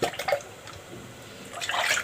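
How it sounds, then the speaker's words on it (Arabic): Milk poured from a cup into a cooking pot, a brief soft liquid splash and trickle, close and quiet, heard alone without speech. "نزلنا هنا بأول كوباية لبن"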